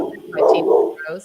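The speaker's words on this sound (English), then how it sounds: "Sorry about my dog. He barks at everything." A pet dog barks and yips in short bursts close by, mixed in with a person talking over it.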